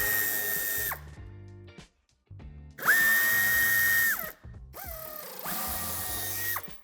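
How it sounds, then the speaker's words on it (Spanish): A power drill backs out Torx 25 screws from the wheel-arch area of a 2020 Audi A3 Sportback, with several loud whirring bursts that rise and fall in pitch, separated by short pauses, close up and with no talk. "Empezaremos quitando los 6 tornillos de Torx de 25."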